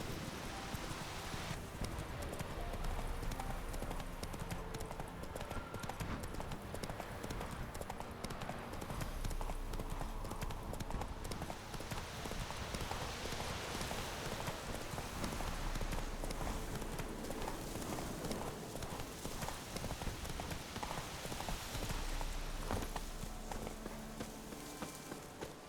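Geralt's horse Roach gallops in The Witcher 3, a quiet continuous rhythm of hoofbeats clip-clopping over rain-like ambient hiss and game music for the full stretch.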